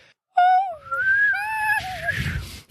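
A person whistles a wavering, sliding cry that rises and dips, close and loud, with breathy edges, imitating a dying otter's call.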